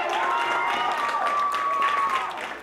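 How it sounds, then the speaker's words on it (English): A school audience at a kindness seminar applauds a student, steady clapping filling the whole stretch with a few voices mixed in, fairly loud and continuous. "He deserves a big round of applause."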